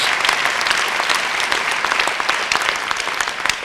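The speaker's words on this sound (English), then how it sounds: "give them a big round of applause" Loud, dense applause from a large audience fills an undergraduate commencement ceremony in spring 2013, a continuous roar of many hands throughout.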